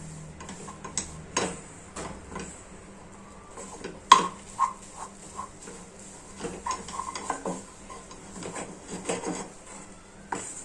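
Semolina stirred and cooked in a kadhai gives repeated scraping and tapping of a spoon against the pan, irregular and fairly close, with a sharper clack in the middle and steady low background noise.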